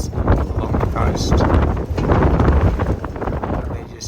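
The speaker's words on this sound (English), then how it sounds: "It's just been blowing all night. Montenegro gets these Kabatic winds coming down off the mountains along the coast." Gusty katabatic wind pours down off coastal mountains over a sailboat riding at anchor off Montenegro, a loud, close roar of wind buffeting the microphone that swells and dips in gusts, with a voice speaking over it.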